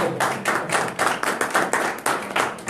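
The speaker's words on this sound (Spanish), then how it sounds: "un aplauso" Audience applause at a presentation in a hall, a small group clapping in distinct rhythmic bursts, fairly close and moderately loud, with no talk over it.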